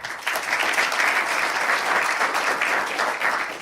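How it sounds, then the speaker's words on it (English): Audience at a live panel event applauds the introduced panelists, a steady burst of clapping from a modest crowd that holds level throughout with no talk over it. "I'll give them a round of applause."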